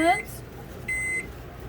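A microwave oven drying stained paper gives a quiet low hum with short electronic beeps at the start and again midway.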